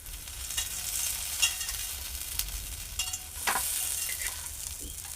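Fasting-style thalipeeth fries in ghee on a tawa with a soft, steady sizzle. Small crackles and scraping stir sounds rise now and then, close and fairly quiet, with no talking.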